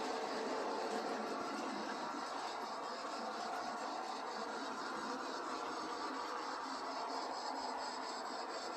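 A model train runs steadily on a layout with a continuous rattling, clicking hum, quiet and close, with no voices.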